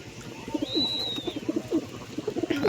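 Pigeons coo in a series of soft, low, rounded calls close by, with a brief high whistle-like tone partway through and no talking.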